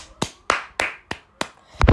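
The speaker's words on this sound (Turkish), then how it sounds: "Bir alkış." About half a dozen crisp hand claps, close and evenly spaced at first, ending in a slightly louder flurry.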